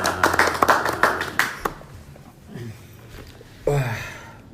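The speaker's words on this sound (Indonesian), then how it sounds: "Boleh tepuk tangan" An audience claps in a brief burst of hand claps at a talk show event in Ruteng, with sharp individual claps fading out, followed by a host's voice speaking.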